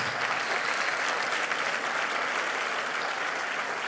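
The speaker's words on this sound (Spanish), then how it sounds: "Dale un aplauso de gloria a Dios si quieres dárselo" A church congregation applauds during a Spanish-language worship service, a steady, dense wash of clapping that holds at an even level throughout, with no talk over it.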